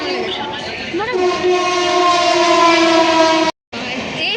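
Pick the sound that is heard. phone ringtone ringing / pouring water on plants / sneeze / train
train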